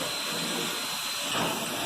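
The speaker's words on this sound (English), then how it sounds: "I don't want to be around that when it starts blowing a lot more steam than that." Restored steam locomotive in Skagway, Alaska, after a rebuild, blowing off steam: a steady broad hiss close by, swelling slightly near the end, with no talk.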